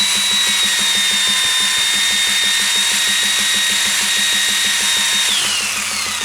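An electric drill spinning at 2,500 revs turns a Lister D lighting plant to charge it, giving a loud, steady, close whine with a rapid rhythmic churn underneath that dips slightly near the end.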